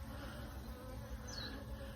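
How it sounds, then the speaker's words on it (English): Bees buzzing around a beehive among autumn spider lilies, a steady dense insect drone that fills the whole moment, close and continuous, with no talk. "Come on bees, just fly straight through."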